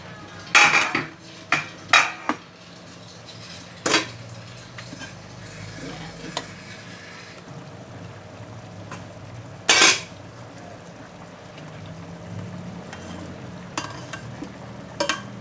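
Potatoes cook in a pan with a faint sizzle while a utensil stirs, scraping and clanking against the metal in several sharp knocks, then quieter stirring.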